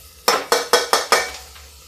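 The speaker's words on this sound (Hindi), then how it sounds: "अब हम डालेंगे इसमें अरहर की दाल जो मैंने धुल के रखी" Washed toor dal (arhar lentils) goes into a pan of spices in a home kitchen: five quick metallic clinks of a spoon against the pan in a steady rhythm, close and crisp, followed by quiet.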